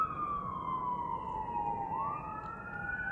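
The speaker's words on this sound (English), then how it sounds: "And then we have the sirens." Wailing emergency vehicle siren sweeping down and back up in pitch as it passes along a street by the Menger Hotel, steady and moderately loud over traffic rumble, no talking.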